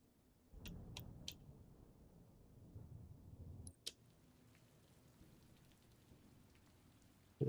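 Light rain weather effect in a Resident Evil 3 map build, a soft steady patter of drizzle with a few sharp clicks and a brief knock partway through, faint and alone with no voices.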